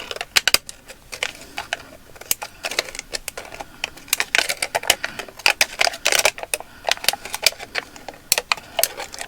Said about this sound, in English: I'm going to cut little slits in the side.